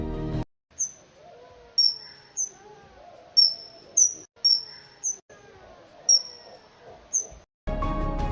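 Slowed-down bat calls: a series of high, sharp, downward-sweeping chirps, about ten of them at irregular intervals over a quiet, faintly warbling background.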